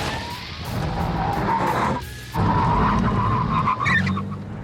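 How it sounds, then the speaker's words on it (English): High-performance supercar braking hard from high speed on carbon ceramic brakes, loud tire and brake squeal with roaring road noise, a brief dip midway, then continuing hard scrub close by. "when you hit the carbon ceramic brakes"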